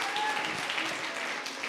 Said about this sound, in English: Give yourselves a healthy round of applause.